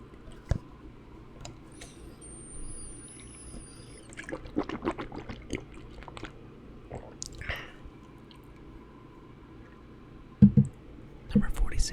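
Close-miked water drinking in a quiet ASMR setting, with soft wet clicks and squishy mouth sounds and louder gulping swallows near the end, following an earlier stretch of quiet speech.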